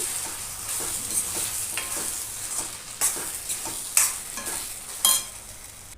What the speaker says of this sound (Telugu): ఇప్పుడు మళ్ళీ ఒకసారి కలుపుకోవాలి గరిటెతోని లో ఫ్లేమ్లోనే ఉడికించుకోవాలి